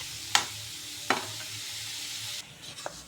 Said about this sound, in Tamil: இப்போ ஓரளவுக்கு வதங்கிடுச்சு, இன்னும் கொஞ்சம் நல்லா ப்ரௌனிஷ் ஆகணும்.